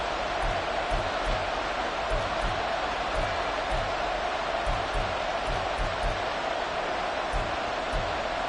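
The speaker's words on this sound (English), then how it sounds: "The Arrowhead crowd in full roar" A roaring home crowd at Arrowhead Stadium in a Chiefs football video game, a dense steady wash of cheering with a rhythmic low thumping underneath, sustained throughout without pause.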